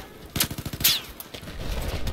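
Rapid burst of automatic gunfire in Battlefield 4, a quick rhythmic string of close, punchy shots followed by a sharper blast and rumbling echo.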